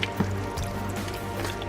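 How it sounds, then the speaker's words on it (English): Water sprinkling through holes drilled in a plastic water bottle onto garden plants: a close, steady hissing spray with faint splashes. "So all I have to do is this, and it sprinkles water."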